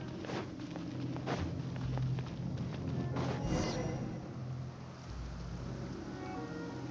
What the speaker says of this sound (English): Quite a downpour.